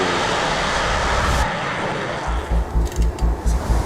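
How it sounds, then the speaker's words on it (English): Eurofighter Typhoon fighter jet flying alongside a private jet, a steady broadband engine roar that eases briefly, then returns with a pulsing low rumble near the end; no talk. "In minutes, they are alongside a private jet which is off its flight plan."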